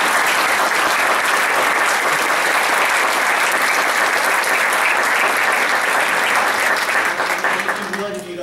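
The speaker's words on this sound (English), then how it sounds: "Would you please give a round of applause?" An audience at an Oregon legislative committee hearing in Grants Pass gives a round of applause to thank the committee staff, dense sustained clapping at full strength that fades near the end.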